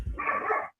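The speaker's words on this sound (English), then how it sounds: "So I assume you guys can hear the dogs" A dog gives a single short bark or yip indoors, close and fairly loud, ending abruptly into silence.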